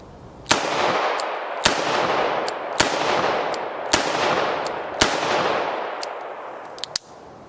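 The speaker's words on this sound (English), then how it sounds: "I brought out the 642 and 38 Special. So I want to go ahead and shoot that just to remind myself." Five loud, sharp gunshots from a Smith & Wesson 642 revolver firing .38 Special round-nose jacketed ammunition, spaced about a second apart, each ringing out with a long decaying echo, followed by faint metallic clicks.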